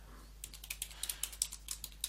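Quick, quiet keystrokes on a computer keyboard as a terminal command is typed, about fifteen light clicks in an uneven rhythm, close and alone.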